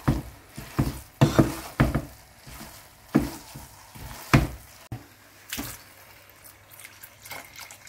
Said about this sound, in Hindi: दूध जो है वो डाल दें